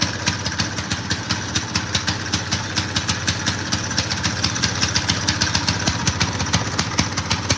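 An engine with a smoky, worn exhaust pipe runs at a steady idle, loud and close, its regular pulsing thump repeating evenly throughout without any talking.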